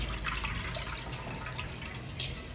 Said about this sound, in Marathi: हे पाणी एकदा काढायचं